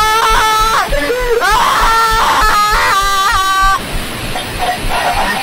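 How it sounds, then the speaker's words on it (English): Drawn-out, wavering screams from the analog horror series Vita Carnis come as loud repeated wails, briefly broken by gaps and harsh noise bursts before dropping away. "I can't deal with the screams,"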